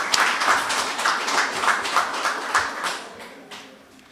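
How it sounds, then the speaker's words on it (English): A crowd at a village council inaugural meeting applauds, a moderately loud patter of many hands with a few sharper claps standing out, tapering off over four seconds. "I mean, just give her a round of applause again."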